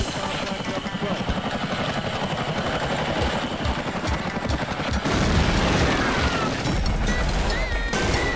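A helicopter whirs in the Vietnam-era shooter NAM, a constant rotor drone under rapid gunfire and crashing explosions that grow louder toward the end, with no talk.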